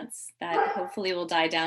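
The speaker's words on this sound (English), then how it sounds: "Apologies for the dog barking." A pet dog barks in a house while a garbage truck is in the neighborhood. Short yips and barks mix with a person talking close by.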